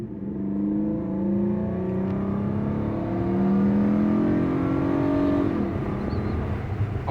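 A 2008 Ford Fusion accelerates on the road, its engine note climbing smoothly through rising revs and holding loud and near before easing off at the end.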